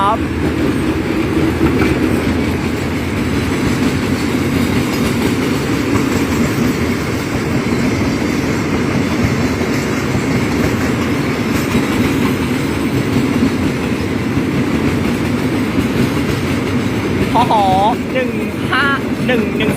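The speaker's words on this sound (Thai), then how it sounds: "ไปแล้วนะครับสำหรับขบวนรถสินค้าน้ำมันรถไฟ ขบวนที่สองศูนย์หนึ่งหกนะครับ" Freight oil tanker train rolling past a railway level crossing at night, a loud steady rumble with clattering wheels throughout, and a brief squeal near the end.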